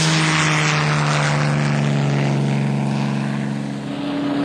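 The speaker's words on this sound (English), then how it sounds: "the German Messerschmitt 109, the fighter which would soon challenge the Spitfire, breaks the world land plane record at 379 miles per hour" A German Messerschmitt 109 propeller fighter plane drones steadily with a loud, continuous engine and airscrew hum throughout.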